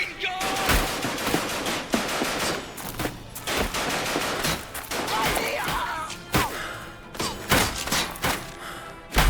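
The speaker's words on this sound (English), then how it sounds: "Machine gun!" Machine gun fire in the World War One video game Ad Infinitum, dense rapid bursts of gunfire with heavy thuds and explosions, loud and sustained, with a faint voice now and then.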